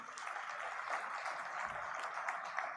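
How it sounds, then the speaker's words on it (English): An audience at a leadership summit applauds uniformed officers on stage. A steady, fairly faint wash of clapping lasts throughout, sounding distant across a large hall. "a round of applause for them."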